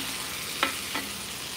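A metal spoon scrapes the bottom of a pot while stirring jambalaya, with two short, faint scrapes about a third of a second apart over a quiet background.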